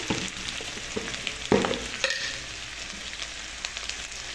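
Taro stolons fry in a pan for a prawn dish while being stirred, giving a close, continuous sizzle broken by scraping and clattering strokes of the spoon, with no talk.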